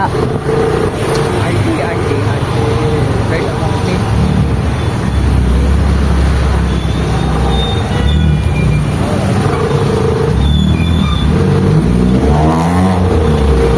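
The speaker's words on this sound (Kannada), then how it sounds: "ಕಾರು ಎಕ್ಸಾಸ್ಟ್ ಹಾಕಿ ಸೌಂಡ್ ಮಾಡಿಕೊಂಡು ಉರ್ರಮ್ ಅಂತ ಹೋಯ್ತಾರೆ" Loud road traffic with a car's exhaust revving and roaring as it passes close by, under a constant drone of vehicles and some talking.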